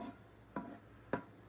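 Butter melting in a skillet heated to about 300 degrees, a faint soft sizzle broken by two brief scraping strokes as it is spread across the pan.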